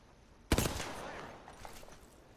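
A Hemlock burst rifle fires in the Apex Legends video game, a sudden loud volley that starts half a second in and then fades into lingering echo and scattered lower noise.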